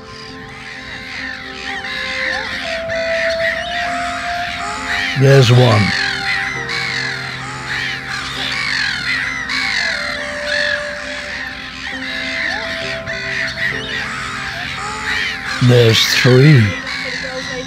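Raucous black-headed gull calls overlap in a noisy nesting colony with newly hatched chicks, harsh warning cries rising and falling, with a person speaking briefly over them.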